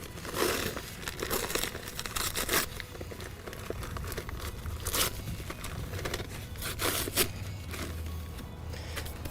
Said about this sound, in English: Same thing, pinch the side, tear it.